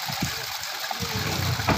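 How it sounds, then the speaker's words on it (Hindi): Hot spring water at Garam Pani near Khairna, Almora, Uttarakhand, pours steadily from a lion-mouth spout, a continuous close splashing rush with no pauses. "बहता है पानी शेर से मुख से ऊपर पहाड़ी से यहाँ से आता है।"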